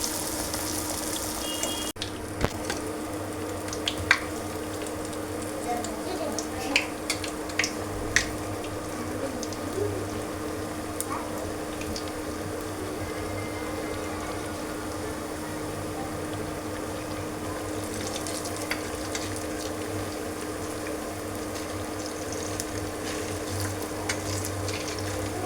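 Black-eyed pea vadas frying in oil give a soft, steady bubbling sizzle heard fairly faintly throughout, with occasional light clicks and scrapes over the hiss and no talking.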